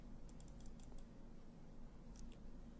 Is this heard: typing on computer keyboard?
yes